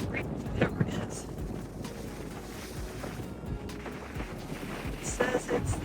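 Clepsydra geyser in Yellowstone erupts in strong wind, giving a steady rushing hiss buffeted by gusts and wind noise on the microphone, with occasional voices nearby.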